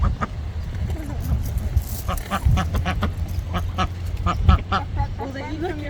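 Ducks quack in short, repeated bursts near a mill pond at a heritage site, mixed with people talking and feeding birds nearby, with some soft clattering in the background.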